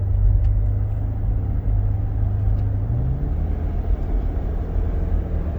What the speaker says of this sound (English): It's downshifting right there.